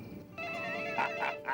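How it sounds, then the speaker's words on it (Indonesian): Telephone ringing in short electronic bursts, three rising trills spaced about a quarter second apart, fairly faint over a low hum. "Telepon, Pak."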